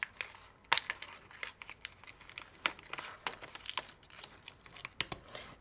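Paper crinkles and snips with scissors while a paper bouquet is cut out for a 3D card, a quiet, close series of irregular crisp cuts and rustles.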